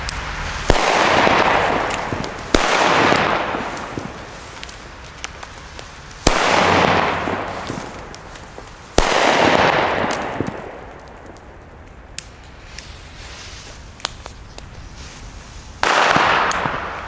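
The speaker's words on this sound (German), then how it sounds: "Anfangen tun wir jetzt mit den Katan D-Böllern." Katan D Chinese firecrackers go off in five loud separate blasts, each a sharp crack followed by a rolling echo that fades before the next, spaced irregularly with no voices.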